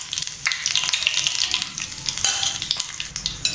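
Dried chilies and curry leaves fry in hot oil for a lemon pickle tempering, a loud, dense crackling sizzle with sharp spits and pops throughout, heard close up with no talking.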